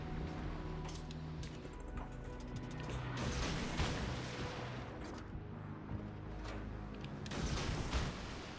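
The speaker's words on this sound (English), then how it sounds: "I'm worried about that cruiser back there shooting me." Naval gunfire from cruisers and battleships in World of Warships Legends during a treasure hunt event: deep booming salvos and cracks over a constant rumbling sea and engine bed, moderately distant and steady throughout.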